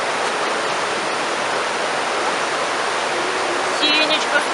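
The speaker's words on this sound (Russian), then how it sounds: "Вот это река Курджипс" The Kurdzhips river rushes through a forest near Mezmay in a steady, broad hiss of flowing water, loud and continuous, with a faint voice near the end.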